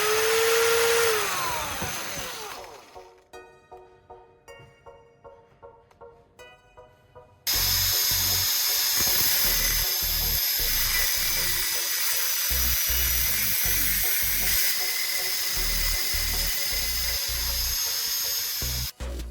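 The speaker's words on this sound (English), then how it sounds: "use a cutting wheel to carefully slice through it right at the section you previously marked" A high-speed rotary cutting wheel whines loudly and steadily, slicing into a metal spark plug with a gritty grinding edge after a brief spin-up and some ticking.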